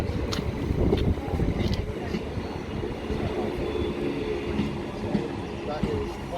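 Southern class 377 electric train at West Worthing station, a loud continuous rumble of the train running through the platform, with a few sharp clanks and rattles over the low drone.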